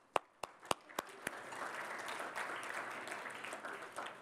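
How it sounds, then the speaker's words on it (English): An audience bursts into applause, opening with a few sharp separate claps before swelling into steady, moderately distant clapping. "give yourselves a round of applause for caring about something bigger than yourselves"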